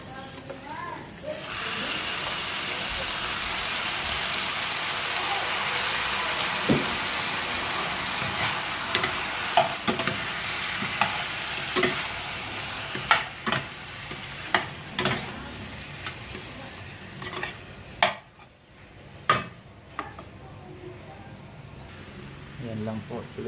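Quail frying in a pan, a broad steady sizzle that slowly fades while sharp scraping clicks from stirring strike at irregular intervals, with a voice speaking in between.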